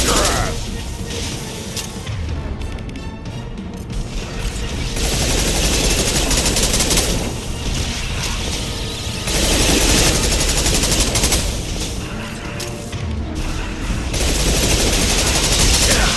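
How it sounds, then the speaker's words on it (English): Anti-ship heavy weapons fire at a Collector vessel in the Mass Effect 2 video game, a loud, sustained barrage of rapid machine-gun-like bursts and booms in waves, with voices talking over it. "Firing anti-ship heavy weapons. at collector vessel."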